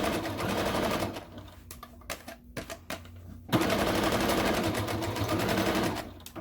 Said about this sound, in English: Just make sure you have enough thread in your bobbin as well, because you are sewing a large piece of fabric.